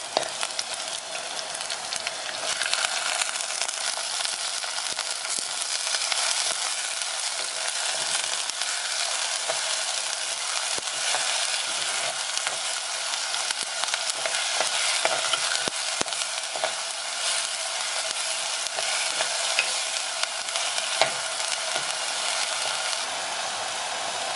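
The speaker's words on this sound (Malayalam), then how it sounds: "നമുക്കിതിലേക്ക് ഇനി സവാള അരച്ചത് ചേർക്കാം" Ground onion paste sizzles hard in a pan for Kerala fish curry, a loud dense frying hiss that runs on steadily, alone with no voices.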